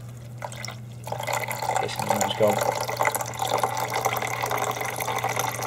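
Water poured into the reservoir of a hotel-room coffee machine, a steady trickling fill lasting several seconds at close range, with people talking over it.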